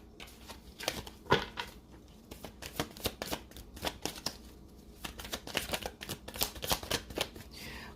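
A deck of tarot cards is shuffled close up in quick, uneven bursts of riffling, sliding and flicking that go on without a break and stand alone with no voice.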